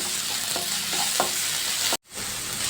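Ginger garlic paste stirred and frying in a hot pan, a steady close sizzle with scraping strokes of the spoon, briefly cut to silence before the frying resumes.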